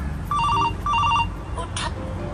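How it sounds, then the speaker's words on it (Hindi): A mobile phone rings with two short electronic chirping bursts, then a brief higher tone, heard over a quiet background. "फिर फोन आ रहा है इसका"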